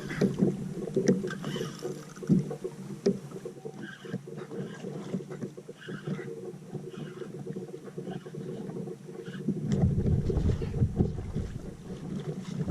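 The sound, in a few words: kayak moving on water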